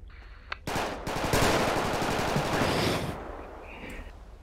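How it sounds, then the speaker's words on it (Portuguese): A burst of rapid gunfire is fired into the air in GTA RP, a loud continuous volley lasting about two and a half seconds after a single opening shot, then fading into a quieter background. "dá geral uns tiros pro alto aí"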